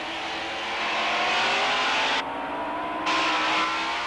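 A stock car race engine roars loud and steady at a race start in second gear, revving with a rising whine as it pulls away, no voices present.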